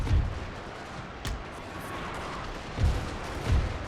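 Musket volleys boom in a Napoleonic-era battle strategy game, several dull, rolling blasts spaced a second or so apart over a continuous battlefield rumble, with no talk.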